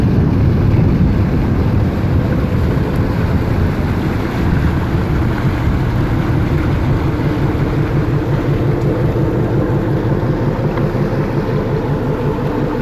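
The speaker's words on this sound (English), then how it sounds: "Now that motorboat in front of me has pushed through the mud and gotten clear." A motorboat's engine churns steadily as the hull pushes through shallow mud after running aground, heard as a constant low rumble mixed with rushing water and wind buffeting the microphone.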